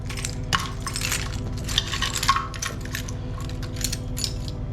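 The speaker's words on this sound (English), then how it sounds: "Okay, a million keys here." A big bunch of keys jangles and clinks in hand before a cold start of an S-Class, bright metallic chinks in repeated bursts over a steady low idle-like hum.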